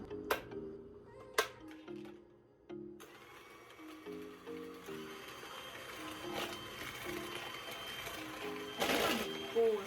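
Whipped coffee ingredients are beaten with an electric mixer, giving a steady mechanical whir with short bursts of rising and falling pitch and a few sharp clicks, fairly faint, while a person talks at times.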